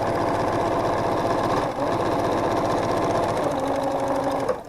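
Sewing machine stitching quilt pieces made from half-square triangles, a steady loud rapid mechanical whir that runs almost the whole time with only a brief dip partway through.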